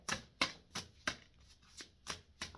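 Quiet, rhythmic riffling bursts of playing cards being shuffled, about eight soft flutters at an even pace, close by with no talking.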